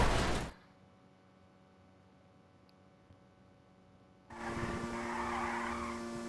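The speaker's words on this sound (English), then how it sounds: "And now he's doing burnouts." Tire squeal from a car doing burnouts in GTA 5 racing: a loud screeching burst at the start, a quiet gap, then a sustained squeal with engine roar building again toward the end.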